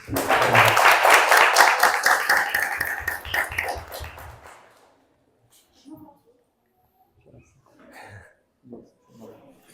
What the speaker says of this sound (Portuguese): E uma salva de palmas, pessoal, para todos